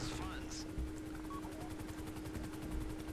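A helicopter in a video game heist raid hovers with a steady droning rotor hum and rhythmic blade chop throughout, with faint game sound effects on top.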